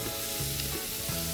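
Steak sears on a braai grill in a steady, close hiss of sizzling fat, continuous and alone with no talk.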